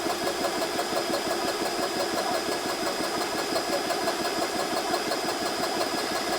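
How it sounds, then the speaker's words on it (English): A GX CS3 PCP air rifle compressor pump runs steadily and loudly, a continuous close mechanical drone with fast rhythmic piston pulsing and a high whine on top, unbroken throughout and with no talking. "The pump itself will turn off automatically when it reaches the 250 bar."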